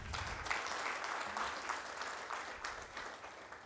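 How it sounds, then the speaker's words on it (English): An audience at a supplier development workshop applauds, giving a steady, moderately loud wash of many hands clapping that holds for several seconds with no speech over it. "A bigger hand clap to Phil."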